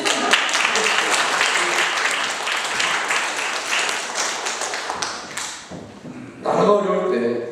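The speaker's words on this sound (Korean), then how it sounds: "박수 치면 다 힘차게 칩니다." A church congregation claps vigorously, with dense, loud applause filling most of the stretch before it briefly thins and then returns with a voice speaking over it.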